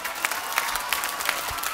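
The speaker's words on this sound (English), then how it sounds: "Let's give Conception a round of applause." Audience applause at a school choir concert in a theater fills the moment, a steady, dense patter of many hands clapping with occasional louder claps, fairly close and without speech.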